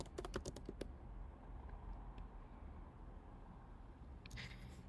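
Typing on a computer keyboard, a quick cluster of close, crisp key clicks at the start and another brief burst at the end, with quiet room tone in between.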